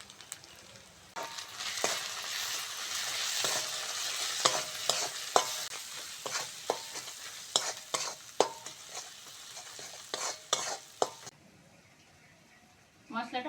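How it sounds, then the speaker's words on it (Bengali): Spice masala with chilli powder, turmeric and salt being stir-fried in oil, a continuous sizzle broken by repeated sharp scraping clicks of a spoon against the pan, fading near the end. "ভালো করে কষে নিয়েছি মশলা থেকে তেল ছেড়ে দিয়েছি"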